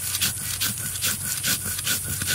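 Green chillies ground by hand on a stone slab, the grinding stone pushed back and forth in steady, repeated rubbing strokes, close and gritty, with no speech over them.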